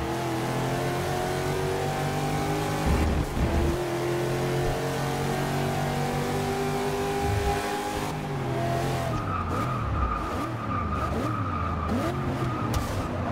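Ultima GTR race car in Forza Motorsport 6 screaming at high revs with steady engine drone, tire squeal and skidding midway, then shifting pitch as it slows and accelerates again; loud and continuous with no talk.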